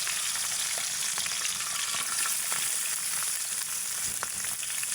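Green chilies, garlic and onion fry in hot oil, a steady dense sizzle with crackling spits running throughout, close and fairly loud, with no talking.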